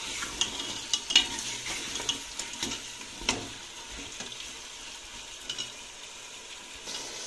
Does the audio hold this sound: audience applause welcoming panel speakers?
no